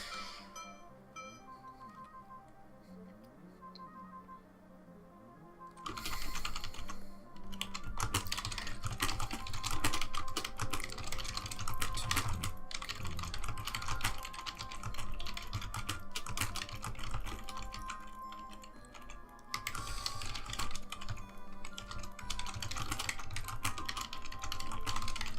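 Fast typing on a computer keyboard during a timed typing lesson game, a dense continuous clatter of keystrokes over quieter game music, beginning after a few seconds of music alone.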